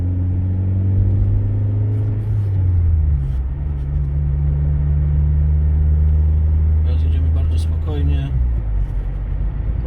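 A car pulls away in Kraków city traffic and drives on steadily, with a low engine rumble and a rising gear tone throughout and a brief shift near the end, while a person talks inside.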